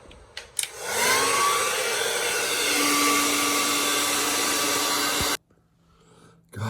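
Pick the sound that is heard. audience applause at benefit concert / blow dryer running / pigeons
blow dryer running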